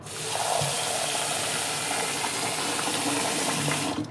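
Water from half-boiled rice pours off steadily as a continuous gushing splash, close and fairly loud, running unbroken for about four seconds before stopping abruptly.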